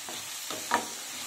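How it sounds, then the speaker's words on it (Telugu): Onion pieces fry with salt in a pan, a faint, soft sizzle broken by a few brief stirring scrapes. "సాల్ట్ వేసుకుంటే తొందరగా ఉల్లిపాయ ముక్కలు వేగిపోతాయి."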